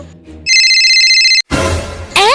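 A telephone rings in a cartoon set on a dark new-moon night. One loud, electronic tone lasts about a second, followed by noisy bursts.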